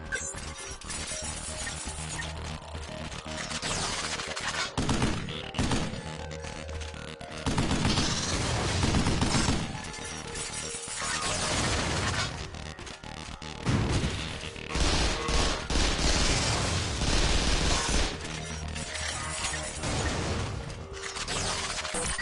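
Weapon gunfire in the Vanquish video game, dense loud bursts of rapid fire with brief pauses between volleys and heavy impacts, sustained throughout.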